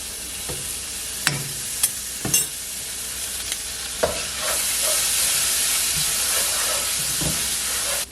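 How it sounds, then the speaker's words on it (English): A big spoonful of garlic sizzles in a pan with pork, with a few sharp scrapes and clinks of stirring before a steady loud frying hiss takes over. "I'm just adding a big spoonful of garlic."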